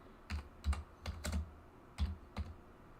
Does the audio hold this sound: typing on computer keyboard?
yes